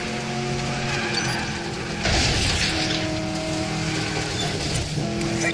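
A car in the video game Medal of Honor Warfighter, racing through Dubai: an engine drone rises and shifts with revving, and a tire screech with a mechanical rattle swells partway through. The sound is loud and continuous.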